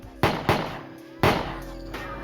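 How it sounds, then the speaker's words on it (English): Three sharp gunshots crack out, two in quick succession and a third after a pause, each trailing a short echo. "when they heard what sounded like gunshots at around 10 p.m."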